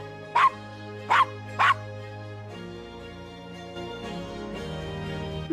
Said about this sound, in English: Nice doggy. Good Castro.